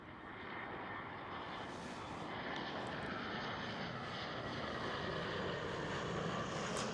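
A Swiss airliner passes at Amsterdam Schiphol with a loud, steady engine roar that swells slightly as it goes by, filling the whole stretch without pause.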